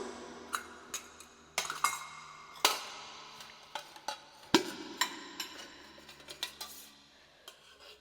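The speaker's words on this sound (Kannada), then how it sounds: "ಸೊ ಫಸ್ಟು ಬಾಂಡ್ಲಿ ಇಟ್ಕೊಳ್ಳೋಣ ಆಮೇಲೆ ಒಲೆ ಅಂಟಿಸೋಣ" A kadai frying pan set down on a kitchen stove gives metallic clinks and knocks, a series of sharp, close clatters scattered over several seconds in an otherwise quiet room.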